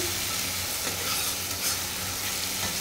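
Spices frying in hot oil for a Bengali curry with chili powder and salt, a steady loud sizzle with stirring scrapes throughout and no talk.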